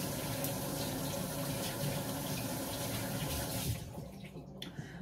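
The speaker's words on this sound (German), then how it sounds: "Hände waschen." Tap water runs steadily into a kitchen sink for hand washing, a loud, close, continuous splashing rush that drops off sharply near the end as the flow is cut.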